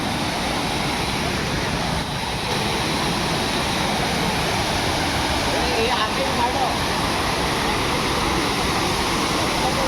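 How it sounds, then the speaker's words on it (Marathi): A constant broadband roar of falling water, steady and fairly loud throughout, like a waterfall heard from nearby, at Savdav waterfall in Konkan. "आणि ह्या वर्षीचा हा बघा धबधबा"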